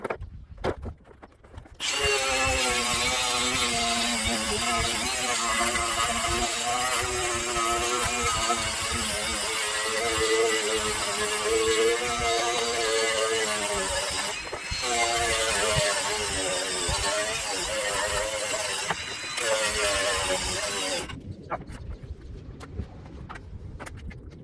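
An angle grinder working on the body of a dead Ford truck: a loud, continuous high-pitched whine with a rough grinding edge, sustained for about twenty seconds with slight wavering, starting and stopping abruptly, no talk.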